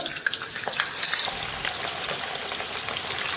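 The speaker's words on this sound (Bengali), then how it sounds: "এদিকে আমি কড়াইয়ে তেল বসিয়ে দিয়েছি, আলুগুলো ভেজে নেব" Potato pieces fry in a generous amount of white oil in a wok, giving a steady, close crackling sizzle with small pops throughout and no voices.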